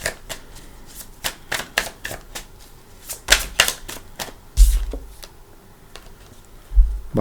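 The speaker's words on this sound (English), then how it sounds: "All right, one more shuffle." Tarot cards riffled and snapped in quick bursts, a rapid flutter of crisp clicks with a couple of soft thumps as the deck is squared.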